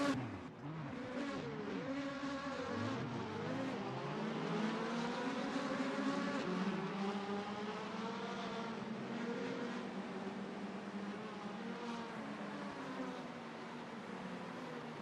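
A pack of Indy Lights cars on the Texas oval in a sim race, overlapping high engine drones climbing through the gears, then settling into a sustained, buzzing whine.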